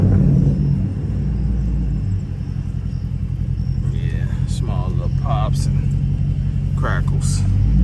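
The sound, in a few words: catless Chrysler 300 Hemi exhaust with small pops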